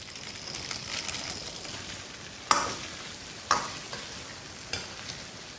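Chili bean paste and a packet of hotpot base stir-fried in a wok, a steady close sizzle and fry with a few sharp spatula scrapes and clanks against the pan.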